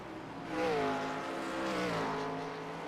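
Race cars of the Goatlocker Retro Cup Series lap the Nashville Fairgrounds oval, a loud engine drone swelling as one car passes close, its pitch sliding downward, with the pack's roar holding steady behind.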